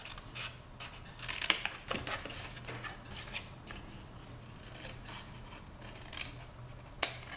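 Scissors snipping paper tabs and wedges while making an Easter gift box, with a few sharp close clicks among soft rustling handling noises, no talking.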